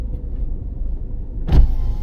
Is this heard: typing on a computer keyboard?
no